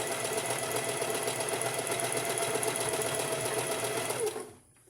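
A sewing machine stitches a fabric cuff in a fast, even, rattling run, close and steady, then stops abruptly just before the end; no one talks over it.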